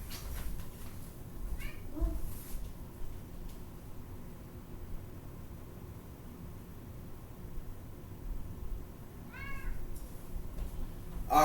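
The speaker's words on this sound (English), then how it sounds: "maybe you heard her meowing over there" A cat meows faintly a couple of times in the distance against a steady background hiss.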